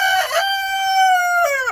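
A rooster in a coop crows once, loud and close, a long drawn-out call that rises, holds, then drops off.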